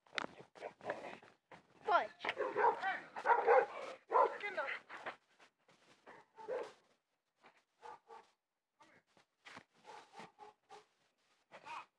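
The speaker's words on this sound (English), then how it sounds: "My dog is so triggered." A dog barks agitatedly in repeated sharp yips and bow-wows, close and loud, with short whimpers between bursts, while a person talks excitedly over and between the barks.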